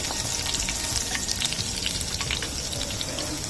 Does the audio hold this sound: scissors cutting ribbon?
no